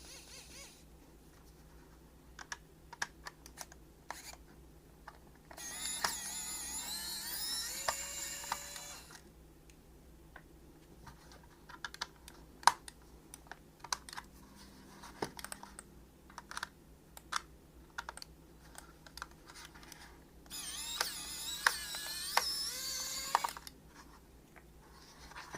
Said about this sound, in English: to unscrew them, we're going to be using this electric screwdriver.